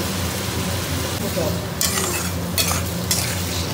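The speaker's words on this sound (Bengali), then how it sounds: "আগে ভালো করে কষানো হবে 5 মিনিট ধরে" Spices are stirred and fried in a hot pan. A steady sizzle runs underneath a few scraping strokes of a spoon against the pan, close and continuous, with no voices.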